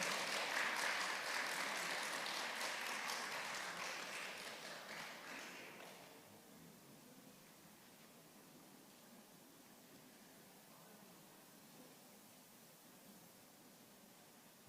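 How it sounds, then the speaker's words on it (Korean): Audience applause greets two debate teams at a Korean university youth debate contest, a dense clapping burst that fades after about six seconds into quiet room tone. "박수로 맞아주시기 바랍니다."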